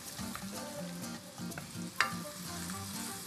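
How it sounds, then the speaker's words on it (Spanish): Chopped onion sizzles in a hot pan, a soft continuous frying hiss broken by stirring scrapes and one sharp clink, heard close up with no talking. "Nada más sabroso que el olor de la cebolla cuando se está cristalizando."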